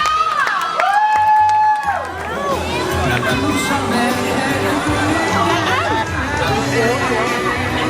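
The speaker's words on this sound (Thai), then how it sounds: "ขอเสียงปรบมือให้กับพี่ใจแอนค่ะ" A lively crowd at a water park in Hua Hin, Thailand, cheers and claps for a Doraemon character appearance amid dense babble, with an amplified voice and music early on, loud and continuous throughout.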